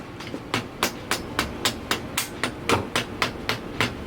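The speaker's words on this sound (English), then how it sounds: "Do not use the hammer. Use the mallet." A mallet strikes a BMX bike spindle in a steady series of about fourteen sharp, evenly spaced knocks, close and loud, with no talking.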